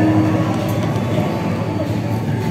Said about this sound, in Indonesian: Datang suatu kereta barang dari arah Bekasi menuju ke arah Cakung, yaitu kereta peti kemas.